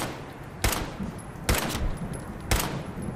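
Enemy gunfire in Fallout 4, three sharp shots spaced about a second apart, each loud burst standing out against a steady low background hum with no talking.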